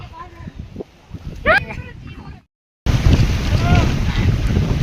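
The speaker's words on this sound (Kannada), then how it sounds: "ಬೆಟ್ಟದ ಮೇಲೆ ತುಂಬಾ ಗಾಳಿ ಇದೆ" Strong wind sweeps a hilltop at the Sogi hill Malleshwara temple, buffeting the microphone in loud rumbling gusts. The sound cuts out briefly, then returns louder, and voices talk over it.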